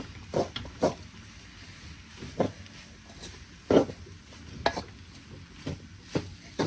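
Chicken kothu parotta mixed in a pan, with scraping utensil strokes arriving in irregular bursts over a low, steady background hiss; moderately close and fairly quiet.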